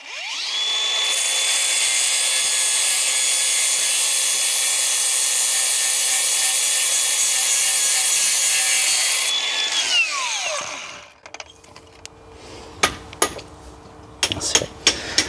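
A power saw cuts a concrete block for brickwork and blockwork, running as a loud, steady high whine for about ten seconds before spinning down. Scattered knocks and scraping follow.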